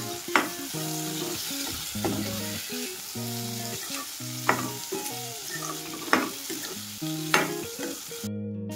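Potatoes stirred and frying in a hot pan in Kolhapuri-style home cooking: steady sizzle with repeated scraping strokes of a spatula, sharp clacks roughly every two seconds, close and moderately loud, with music-like tonal background.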